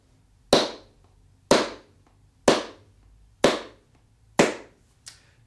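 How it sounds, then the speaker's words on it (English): Six single palm-to-palm hand claps, sharp and evenly spaced about one second apart, close and alone in a quiet room, the last one lighter. "So you clap, single claps."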